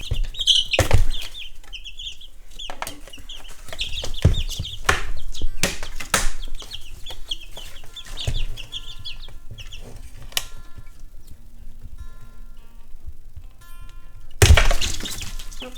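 Young backyard chickens in a brooder give scattered soft clucks and chirps around sharp clattering knocks and thumps from the brooder's clips, with a louder burst near the end.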